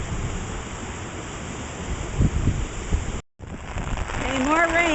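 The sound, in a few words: heavy rain falling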